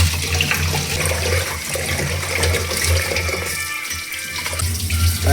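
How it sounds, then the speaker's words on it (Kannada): Parboiled rice is washed in water before soaking, a steady, loud rush of running and sloshing water that continues throughout. "ಅದನ್ನು ಚಂದ ತೊಳೆದು ನೆನಿಲಿಕ್ಕೆ ಹಾಕುವ"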